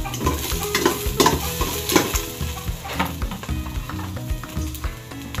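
Garlic and onion sizzle and fry in a pan as they are stirred, with crackling bursts and scraping of a utensil against the pan, steady and close throughout.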